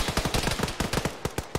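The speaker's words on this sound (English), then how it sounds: "That heavy machine gun left of the bunker to our straight south is still active." Heavy machine gun fire in the Arma video game, a rapid rhythmic burst of sharp shots about a dozen strong, fairly faint and distant-sounding, with no voices.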